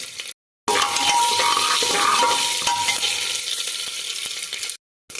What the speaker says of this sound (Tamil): 1 ஸ்பூன் உளுந்தம்பருப்பு, 1/2 ஸ்பூன் சீரகம் போட்டுக்கிடுங்க. நல்லா பொரியட்டும்.